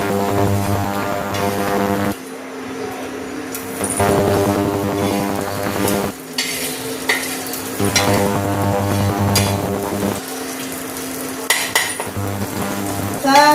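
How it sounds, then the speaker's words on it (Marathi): Green chillies fry in hot oil with a steady loud sizzle, punctuated by repeated scrapes and clinks of a spatula stirring them in the pan. "हा घेतो आता मिरच्या आणि तळून घेते"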